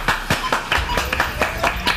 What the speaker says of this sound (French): On essaie d'applaudir, s'il vous plaît.